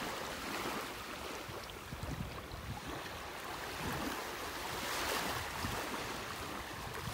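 Gentle surf laps a flat, calm beach in North Naples, Florida on a bright morning, a soft continuous wash of small waves with light wind buffeting the microphone, no voices.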